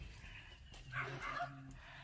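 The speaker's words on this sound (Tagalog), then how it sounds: "kung narinig nyo po, may mga aso na kumakahol." Several dogs bark and whimper near a house along a rural route in the Philippines, fairly faint and distant, with a few short yips in the middle over steady outdoor background noise.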